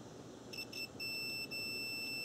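A multimeter sounds high continuity beeps while a car's cooling fan relay is tested: two short chirps, then a longer sustained tone, all faint over a quiet background hum.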